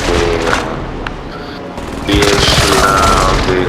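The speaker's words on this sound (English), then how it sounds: "Enemy precision airstrike." Precision airstrike in Call of Duty Warzone: loud, close dense bursts of explosions and rapid gunfire-like blasts, easing mid-clip then surging again into a heavy, sustained barrage.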